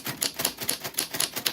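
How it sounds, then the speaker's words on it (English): A typewriter clacks in a quick, even rhythm of close, sharp keystrokes, about a handful of strikes in a brief burst, heard alone without speech. "I am doing some typewriter ASMR at the moment"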